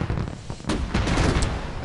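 Fireworks launching in Minecraft, fired off by a pressure plate, make a rapid cluster of popping bursts and booms that layer over each other for under two seconds.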